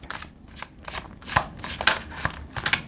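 Tarot cards being shuffled by hand, with a rapid series of crisp riffling bursts and flicks close to the microphone, heard alone.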